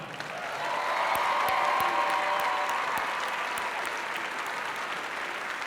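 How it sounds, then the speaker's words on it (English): Loud, sustained applause from a large crowd at a FIRST Robotics regional competition, honoring the judging staff; continuous dense clapping with a few cheers across about five seconds, no talk. "How about a round of applause for our judging staff?"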